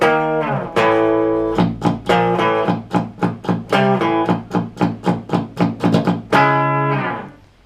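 A heavily distorted electric guitar plays a choppy power chord riff from Mastodon's "High Road", sustained chords broken by quick rhythmic stabs, loud and up front.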